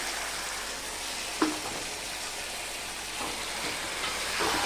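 Pieces of broiler chicken sauté in oil with a continuous close hiss and crackle, a spatula scraping the pan a few times over the steady sizzle.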